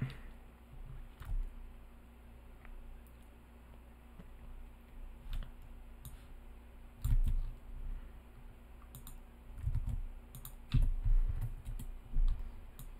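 Code typed on a computer keyboard, irregular clicking keystrokes in short bursts with pauses, a few heavier key strikes, close and quiet with no talk.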